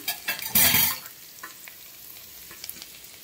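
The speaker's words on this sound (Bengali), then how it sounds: "রসুনটাকে এবার একটু ভেজে নেব। তারপর দিয়ে দেবো একটু আদা কুচি" Garlic and chopped ginger hit hot oil with a loud burst of sizzling, then settle into a quieter steady fry with occasional stirring scrapes.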